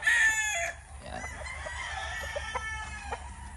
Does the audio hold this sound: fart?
no